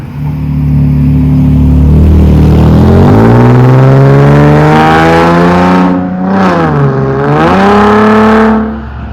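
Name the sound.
car driving past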